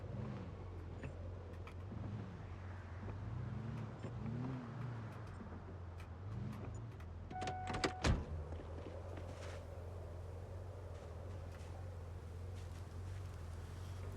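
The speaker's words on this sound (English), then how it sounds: "Okay, reversing at high speed may be dangerous." Car reversing in the Project Zomboid video game, a low engine hum with rising and falling revs and a sharp clunk partway through.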